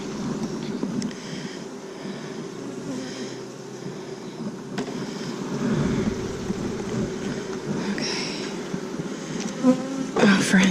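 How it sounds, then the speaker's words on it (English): Honey bees in an open beehive make a steady, close buzzing drone that fills the whole stretch, with a few brief handling knocks near the end. "we're about in the middle of the hive now"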